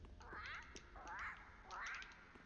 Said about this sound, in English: Of course, that's the invisible bird.